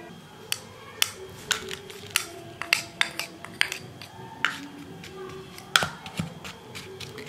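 Spoon clinking and scraping against a bowl while mashed jaggery and liquorice powder are stirred together, a series of sharp, close, irregular taps and knocks with quiet gaps between them.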